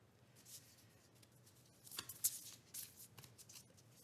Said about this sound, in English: I like to shuffle my cards, and I let a card flip